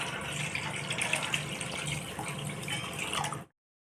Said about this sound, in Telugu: కేజీ బియ్యం పిండికి నేను ఇక్కడ ఐదు కిలోలు నీళ్ళు పోసుకున్నాను